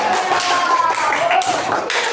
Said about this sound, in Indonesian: Tepuk tangan buat Mas Adi dulu.